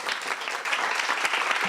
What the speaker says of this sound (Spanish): después de este aplauso para todos los ponentes